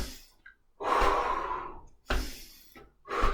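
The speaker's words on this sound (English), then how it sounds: "Now back to regular breathing." Slow, deep breaths during a qigong exercise, close and alone: a long, full inhale followed by a strong exhale, then another breath starting, with near-silent pauses between them.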